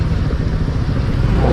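A motorcycle rides along in Davao City, its engine a steady, low, rumbling drone with wind noise, close and fairly loud, with no voices.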